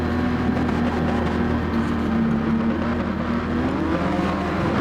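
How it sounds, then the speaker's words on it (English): A race car engine in a BMW Vision Gran Turismo racing game hums at steady high revs, a continuous droning whine that holds level throughout with no voices. "Revs are up then."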